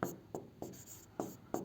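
Handwriting on paper during a Class 10 maths lesson, with five or six short scratchy pen strokes coming close together in a quick, uneven rhythm, near and clear.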